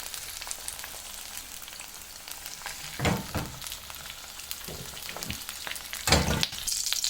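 Onions fry in oil for chicken jalfrezi, a moderate bubbling sizzle with two louder bursts of stirring and scraping partway through.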